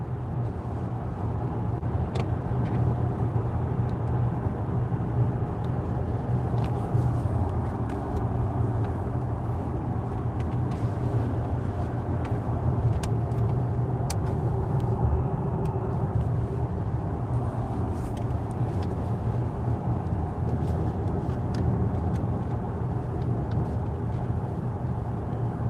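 An Xpeng G9 Performance car cruising on an open road between chargers, with a steady low rumble of tyres and road noise running continuously throughout, no voices.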